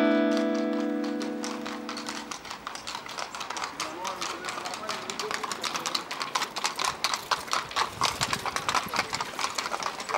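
Horse hooves clip-clop rhythmically on a Vienna street, a steady clatter that grows denser and louder as the horse passes nearby, with street ambience and voices in the background.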